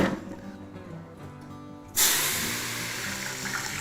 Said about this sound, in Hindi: लहसुन के पानी के छींटे मारने हैं सरसों के तेल में।